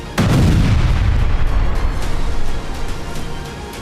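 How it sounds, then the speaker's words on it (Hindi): Israeli air force missile strike in Gaza, one heavy blast that bursts in at once and then rolls on as a deep, sustained rumble that slowly fades, loud and booming. "इजरायली एयरफोर्स ने उन्हें लोकेट किया और फिर मिसाइल मारकर खत्म कर दिया।"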